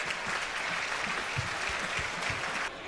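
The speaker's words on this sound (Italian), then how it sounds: "facciamo un applauso alla memoria." Sustained applause fills a hall in Vicenza, offered in memory of the 200 people in Veneto who took their lives during the economic crisis; dense, even clapping from a sizeable audience runs steadily throughout with no voices over it.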